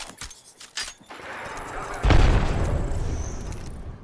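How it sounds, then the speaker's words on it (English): An Arc Star grenade detonates in the Apex Legends video game on PS4 Pro, a sudden loud boom that swells into a sustained crackling electric rumble lasting a couple of seconds before cutting off. "Throwing Arc Star."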